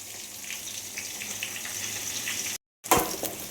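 Onions frying in a pan for a Tamil medicinal kuzhambu make a steady, dense sizzle that runs for over two seconds, stops for a brief moment and then resumes.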